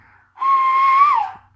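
Single steady whistle into a keyed CB radio microphone on an RCI 2980 export base station, a clear tone held about a second, then gliding down at the end, alone with no speech.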